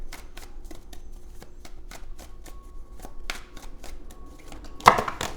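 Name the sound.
tarot cards being shuffled and drawn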